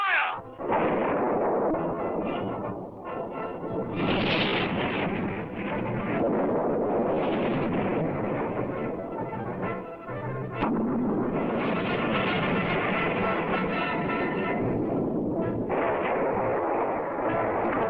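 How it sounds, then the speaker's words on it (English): Ship's cannons firing in a 1962 Caribbean pirate adventure battle scene, a dense, loud barrage of booming blasts and rumbling explosions that continue almost without pause, with a sharp crack near the middle and no talk. "Open fire on that ship at once."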